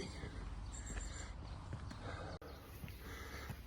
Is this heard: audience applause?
no